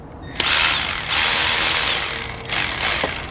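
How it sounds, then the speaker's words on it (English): Ratchet clicks and whirs in quick bursts while tightening the bottom bolt on a power steering pump on a 1999-2003 Acura TL, with close, sharp mechanical rasps and short pauses between the strokes. "we're going to go ahead and tighten the bottom bolt a little bit more"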